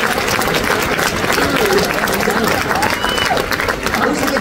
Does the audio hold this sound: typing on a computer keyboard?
no